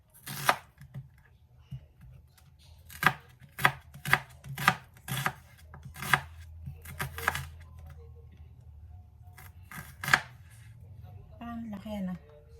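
A knife chops through an onion on a board in a home kitchen, with a run of sharp, close taps spaced unevenly and some bunched together, and a brief pause between them; someone speaks quietly over the cutting.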